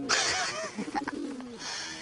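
A decoy pigeon coos nearby in a medieval outlaw drama, soft throaty warbling calls in a short rolling sequence, with rustling and brief movement noises around it.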